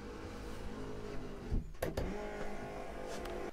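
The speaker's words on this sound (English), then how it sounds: "One press of a button, bring our bed down." The motorized bed in a Leisure Travel Van Libero lowers with a soft electric motor whir, briefly interrupted by a couple of clicks and a short thump partway through, quiet and close with no talking.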